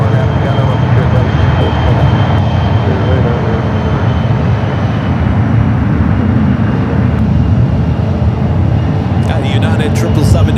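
A United Boeing 777-300ER holds on runway 28 left at San Francisco airport, its engines giving a loud continuous low rumble and whine throughout, with a voice talking over it.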